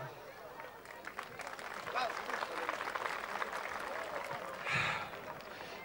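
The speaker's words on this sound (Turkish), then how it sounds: "Alkışlar eşliğinde." Audience applause at an agency show presentation: a sustained wash of clapping from a crowd, moderately loud and steady for several seconds, with speech babble underneath.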